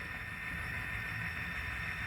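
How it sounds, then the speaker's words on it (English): A model train runs steadily on a 1970s Milwaukee Road branch-line layout, giving a continuous, even rumble and hiss close by with no talking. "You can watch the train some more."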